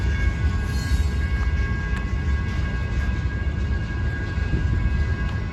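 A long freight train rolls steadily past a crossing, a continuous loud rumble of wheels and cars with faint squeals, heard alone without voices.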